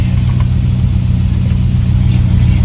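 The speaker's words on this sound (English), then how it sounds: "Driving the 51 Mark 7 following" The engine of a 1951 Jaguar Mark VII hums steadily and loudly while driving, a constant low rumble with no break.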